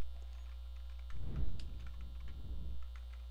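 Typing on a computer keyboard while entering text on a slide in PowerPoint 2007, a close burst of quick, uneven key clicks lasting about two seconds against a quiet background.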